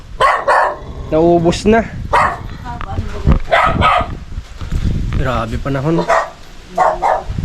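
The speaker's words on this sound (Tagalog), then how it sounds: "Galit na galit mga aso" Several dogs bark angrily in repeated sharp bursts, loud and close, with a few yips between them, while people talk over and between the barking.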